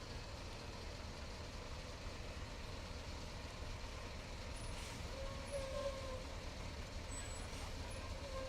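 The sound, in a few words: heavy haulage truck with air brakes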